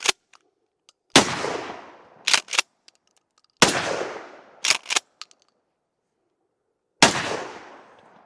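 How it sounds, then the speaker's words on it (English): A suppressed, 9-inch PSA 570 short-barreled pump shotgun with a YHM Victra-12 suppressor fires three loud, booming shots a few seconds apart, each followed by a decaying tail and quick mechanical clacks of the pump being racked. "Yeah, that's a stout shotgun."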